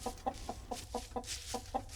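A video-game bird in CrossRoads: Escape The Dark clucks in a steady series of short, evenly spaced calls, about eight in two seconds, close and moderately loud over a low rumbling background.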